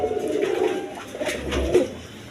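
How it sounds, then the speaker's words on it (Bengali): A pair of owl-shirting pigeons cooing close by, with soft, low, rolling coos repeating for the whole short stretch and no voices present. "দর্শকবৃন্দ এখানে এক পেয়ার আউল শার্টিং কবুতর আছে"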